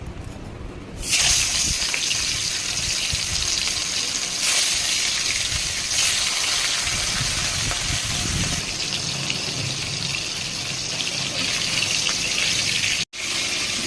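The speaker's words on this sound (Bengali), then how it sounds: "কড়াইতে তেল গরম হয়ে গেছে, এবার মাছগুলো ছেড়ে নেব।" Hilsa fish pieces slid into hot oil in a wok set off a sudden loud, hissing sizzle that keeps going strongly, with small surges and a brief clatter near the end.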